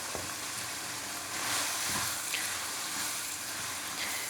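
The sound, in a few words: minced meat (keema) frying in a pan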